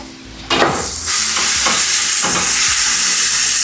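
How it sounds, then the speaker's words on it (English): Small fish frying loudly in hot oil as they are dropped into the pan, a sudden burst of sizzle that settles into a steady, close, intense hiss with a few crackles. "Alafu pia here, I want to fry my fish."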